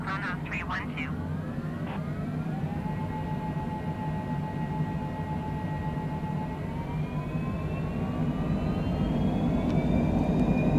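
A Cessna Citation Longitude jet in a flight simulator game rolls down the runway for takeoff, its steady engine roar rising in pitch as it gains speed, with a brief chirp near the start.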